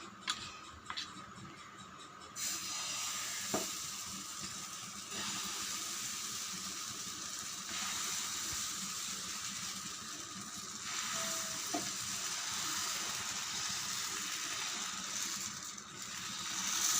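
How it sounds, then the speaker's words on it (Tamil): Appam batter sizzles on a hot dosa pan, a constant soft crackling hiss that holds for many seconds at low to moderate level, with a few faint clicks and no voices. "நம்ம தோசைக்கல் வச்சு அப்பம் ஊற்றிடலாம் ஃப்ரெண்ட்ஸ்"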